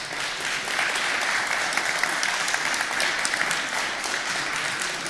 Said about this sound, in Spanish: le damos un aplauso a Ernesto.